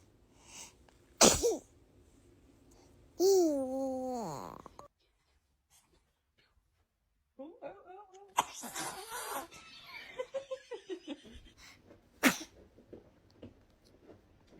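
Baby sneezing several times in short, sharp bursts, with an adult voice speaking between sneezes, and some cooing and laughter.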